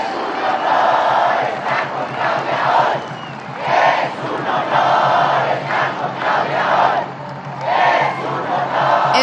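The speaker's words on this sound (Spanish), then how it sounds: "Un aplauso a nuestros diputados y senadores," Large crowd at a presidential address in Mexico erupting in cheers, shouts and applause, with loud swelling waves of roaring voices rising and falling across the whole stretch.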